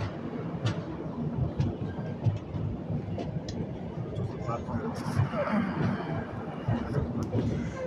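The East Coast Express, train 18045, heard from inside a 3rd AC coach as it rolls into platform 3 at Kazipet station: continuous wheel and carriage rumble with a few clacks, under talk and background chatter.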